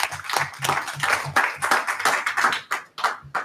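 An audience claps at a Union County Board of Education meeting. The applause is steady, dense and moderately loud, with sharp individual claps running throughout and no voices.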